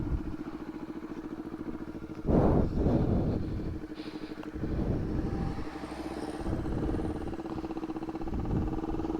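Honda CBR 250RR sport bike engine running steadily with a sharp rev burst early on, then settling back to a busy idle-to-midrange drone, close to the microphone with some wind buffeting.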